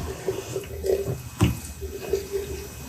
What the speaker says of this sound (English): To prepare for blending, water is added, covering the chopped mushrooms.